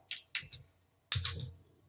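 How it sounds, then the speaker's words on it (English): Keystrokes typed on a computer keyboard while entering text in AutoCAD, a few quick close taps in two short bursts, fairly quiet and alone. "Now we can type here"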